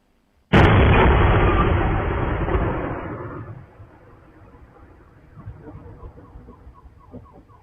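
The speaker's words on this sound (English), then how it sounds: "Meanwhile, explosions in Belgorod People Republic." A single loud blast from an explosion in Belgorod, Russia, bursts out suddenly and rumbles off over a few seconds, followed by a quieter stretch with scattered faint crackles.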